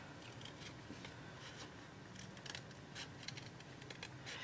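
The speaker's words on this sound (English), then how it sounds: "you want to make sure to move the paper, not the scissors" Quiet, repeated snips of scissors cutting paper, close and soft, in an irregular rhythm over a faint background hiss.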